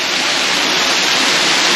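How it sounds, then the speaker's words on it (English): A waterfall pours into a small shallow pool at the top of a hiking trail, making a loud, steady, close rushing roar with no pauses. "now we came up on top where the water comes down"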